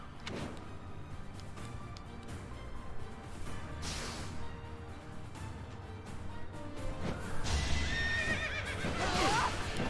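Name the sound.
flying horse neighing in video game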